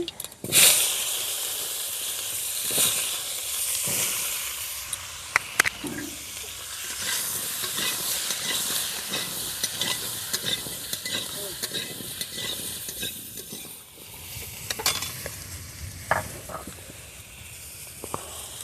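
Dudh kochu taro stalks frying in a pan with a continuous hiss and sizzle, broken by scraping stirs and occasional clatters of a utensil against the pan.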